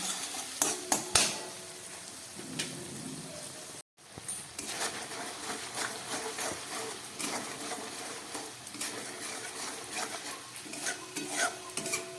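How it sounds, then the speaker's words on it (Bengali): Ground spices, including dry chili powder with a splash of water, stir-fried in a pan for vegetarian chili paneer: steady close sizzling with repeated scraping and stirring strokes against the pan, a brief gap partway through, no talking. "খুব ভালো করে মশলাটাকে মেবে কষিয়ে নিচ্ছি"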